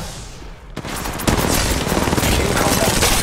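Rapid automatic gunfire in the mobile shooter Apex Legends Mobile, a dense burst of shots that starts abruptly and keeps rattling loudly to the end.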